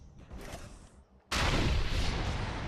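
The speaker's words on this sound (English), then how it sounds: "You shoot something, press reload, it explodes, drops bombs, so you can like do a carpet bombing." Rocket launcher explosions carpet bombing in the video game Defiance: a softer rumbling first second, a brief drop, then a sudden loud burst of dense, continuous blasting that holds steady to the end.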